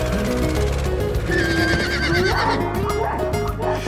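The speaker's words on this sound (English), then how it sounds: "greeted by a man on horseback" A horse whinnies loudly and close at a colonial hacienda estate, a long wavering neigh that rises and falls for several seconds, with faint hoof clatter beneath.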